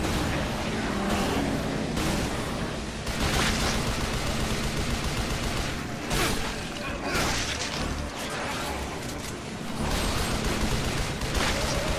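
Gunfire aimed at a boss in Shadows of the Damned, a dense, continuous barrage of loud cracking shots and crashing impacts with brief surges throughout, close and harsh, no talking.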